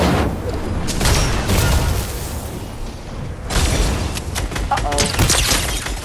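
Rocket launcher blasts and explosions in a video game firefight, several heavy booms and bursts of gunfire rising and falling over a few seconds, with people talking over them.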